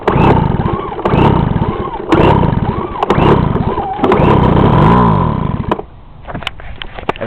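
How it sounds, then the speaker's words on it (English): A Craftsman leaf blower's small two-stroke engine, sprayed with starting fluid, is pulled over repeatedly and briefly fires, giving loud rhythmic bursts of cranking and sputtering that end in quieter clatter. "there it fired. So now I know the engine's good"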